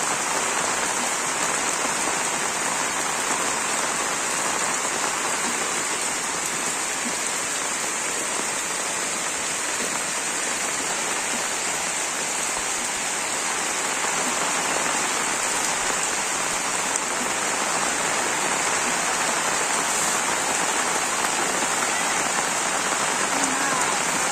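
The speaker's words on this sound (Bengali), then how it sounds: "এত বৃষ্টি নামছে" Heavy rain pours down on a Bangladeshi village in a constant, dense hiss of drops striking surfaces, unbroken and even from start to finish.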